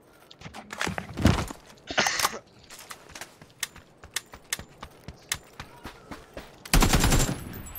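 Shooting video game gunfire: a loud opening burst, then a steady run of single evenly spaced shots, ending in another dense burst of fire, with no talk over it.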